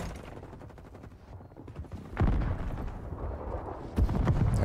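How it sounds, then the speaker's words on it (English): Gunfire and airstrike explosions from a video game battle: rapid distant shots followed by two loud, close booming blasts. "airstrike is gonna get me"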